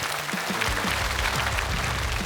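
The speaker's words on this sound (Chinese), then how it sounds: "掌声再次送给 Steven" Crowd applause for a stand-up comedian at a Chinese-language comedy show, an even wash of clapping throughout, with faint low tones running beneath it.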